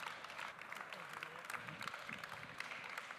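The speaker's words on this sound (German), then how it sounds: "einmal mehr einen großen Applaus für den Heinz Drachsel" An audience at a Swiss coffee festival applauds with quiet, scattered clapping, individual hand claps audible through a steady patter, with faint low murmuring underneath.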